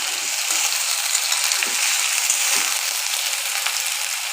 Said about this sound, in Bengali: এখন জিরে ফোড়ন দিয়ে সবজিটা ভালো করে ভেজে নেব